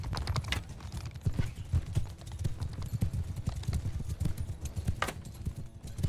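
Rapid hoofbeats clip-clop continuously, like cavalry horses galloping over hard ground in the video game Mount & Blade II: Bannerlord, steady and fairly loud with scattered clatter in the background.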